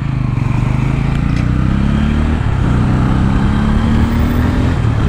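A 2024 Bajaj Pulsar N160 motorcycle engine runs steadily up close on the road, a loud low rumble with slight rises in pitch as it shifts through gears.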